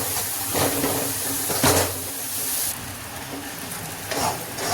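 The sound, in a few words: jaggery melting and being stirred in a pan for puran poli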